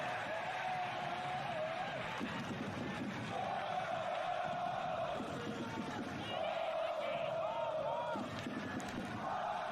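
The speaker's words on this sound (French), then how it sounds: "Et les huées là de la part des supporters lorientais" Lorient supporters in a football stadium jeer and boo in sustained crowd waves, rising and falling over a steady roar, with some voices heard within the crowd.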